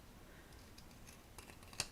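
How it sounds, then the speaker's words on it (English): Long-bladed craft scissors snip through paper in a quiet room, with faint soft cuts building to one crisp, sharper snip near the end. "I'm going to trim that off right away with a long bladed scissors"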